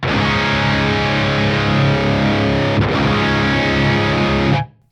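A high-gain electric guitar amp tone from the Archetype: Rabea plugin with the EL34 switch engaged and the master set high, a dense, sustained distorted chord ringing loud and alone before cutting off abruptly near the end.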